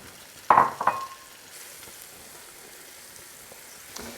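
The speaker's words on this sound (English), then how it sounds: "we're going to saute 8 ounces or 227 grams of mushrooms right in this bacon grease" Mushrooms drop into hot bacon grease with a loud initial hiss and scrape, then settle into a soft, quiet sizzle that fades to a low steady crackle, with no speech.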